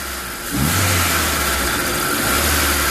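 A car engine being checked for a faulty fuel injector rises from idle into a sustained rev as the accelerator is pressed, a loud, steady mid-pitched drone that holds for several seconds.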